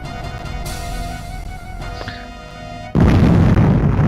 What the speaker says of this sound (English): The explosion was pretty messy.